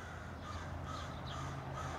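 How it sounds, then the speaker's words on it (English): A crow caws a few times in the distance, faint against steady outdoor background noise. "Oh, this annoying crow."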